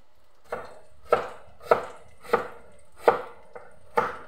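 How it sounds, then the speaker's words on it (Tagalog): Steady knife strokes slice onions on a cutting board, about seven crisp, evenly spaced cuts, close and clear, with no talking. "Naroon na pag-slice ng Bombay diya guys"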